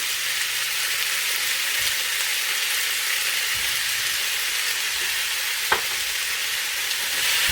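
Meat and onion searing in a hot pan for a homemade meat and potato pie, a loud continuous sizzle with one brief clink midway, no voices.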